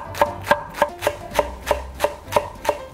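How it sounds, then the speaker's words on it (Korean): A knife chops washed perilla leaves into thin strips on a cutting board, with about nine crisp, evenly spaced strokes close up and nothing else heard. "깨끗이 씻은 깻잎은 송송 채썰어 준비해주고"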